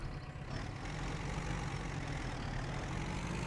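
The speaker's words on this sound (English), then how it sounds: "But it's just a real cute little tractor." A small tractor engine in Farming Simulator 17 chugs at a low, steady idle-like rumble, moderately loud and continuous for a few seconds with no talk.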